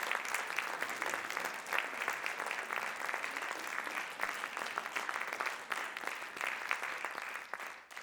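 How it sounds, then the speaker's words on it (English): An audience claps after an evening talk by Michael Kirby in steady, sustained applause, heard from some distance and fairly quiet, tapering off at the very end. "I think I deserve a big round of applause."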